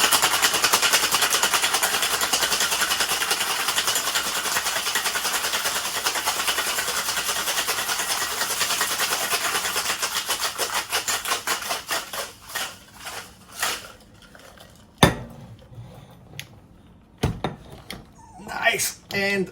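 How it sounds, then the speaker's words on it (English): A cocktail shaker holding a rum mojito over ice rattles hard and continuously for about twelve seconds, then slows into a few scattered clinks and knocks, with short voiced exclamations near the end. "And now let's give it a good shake."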